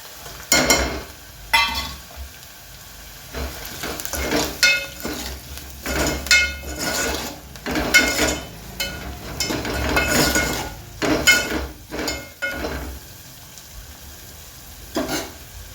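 Chopped onion fried with spices in a pan for a mixed eggplant, potato and ridge gourd curry, giving a close, steady sizzle broken by repeated scraping and clanking of a spoon stirring against the metal.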